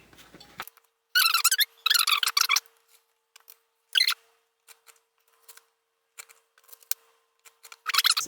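Several short bursts of scissors snipping close by, separated by quiet gaps, as excess material is trimmed away by hand.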